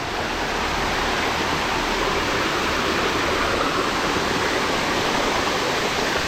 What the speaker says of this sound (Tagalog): Babanlaw tayo dito sa falls ngayon.